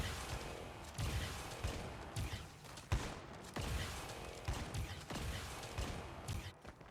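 Double shotgun play in Call of Duty Mobile: heavy shotgun blasts alternating with quick weapon-swap clicks, a repeating close shoot-and-swap rhythm of sharp booms, no talking.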